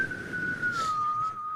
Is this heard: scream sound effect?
no